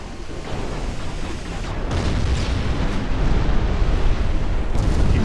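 Torpedo hit on a warship and the following explosion in the naval strategy video game Ultimate Admiral Dreadnoughts, a loud, sustained rumbling blast that swells and stays heavy, with no talking.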